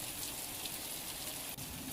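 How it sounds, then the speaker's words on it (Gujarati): Light rain falling over the town of Botad in Gujarat during the monsoon, a steady, even hiss of drizzle that holds throughout with no voices. "બોટાદ શહેરમાં ધીમી ધારે વરસાદની શરૂઆત થઈ છે"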